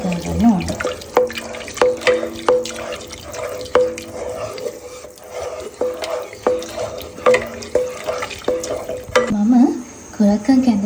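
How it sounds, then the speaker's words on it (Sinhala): A spoon stirring sago and finger millet (kurakkan) gruel in a pot, giving repeated wet scraping and clinking strokes in an uneven rhythm, close and moderately loud, with no one talking. "දැන් නැවතත් හොඳට හැඳ ගන්න ඕන."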